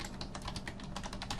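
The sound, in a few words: typing on a computer keyboard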